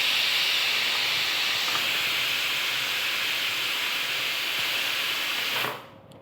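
Steam hisses steadily from a pressure cooker cooking dal, a loud continuous broadband hiss that holds for several seconds and then cuts off abruptly near the end.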